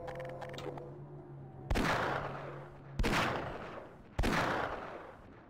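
Three loud revolver shots ring out in a video game at a spaced rhythm, each with a long decaying tail, following a steady electronic hum.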